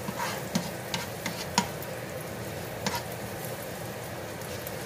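Steak fries in melted butter in a pan, a close, steady sizzle with a few sharp pops and utensil clicks early on, no talking.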